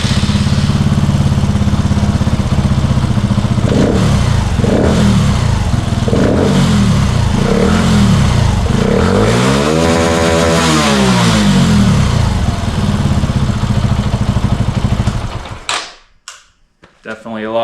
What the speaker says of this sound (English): we'll let you hear it breathe. It's a lot louder.